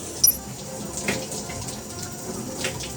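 Shower water runs with a soft, steady hiss of spray, broken by a few brief splashes and drops, fairly faint and alone.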